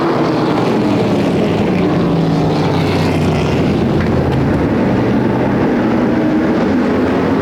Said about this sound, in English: It's time to go vintage modified racing off a turn 4.